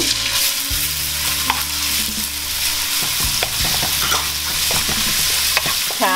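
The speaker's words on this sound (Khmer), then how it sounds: "ឥឡូវយើងចាប់ផ្ដើមឆាណាផ្ទះក្តៅហើយយើងដាក់ខ្លាញ់" Food stir-frying in a hot pan with oil for a bamboo shoot dish, with a loud steady sizzle and repeated scraping stirs throughout, no voices.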